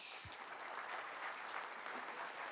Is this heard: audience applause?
yes